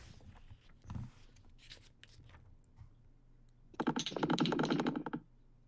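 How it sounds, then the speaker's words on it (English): A quick, dense burst of keyboard typing, loud and close, comes after a few scattered soft clicks and rustles. "What's that sound? Someone's typing."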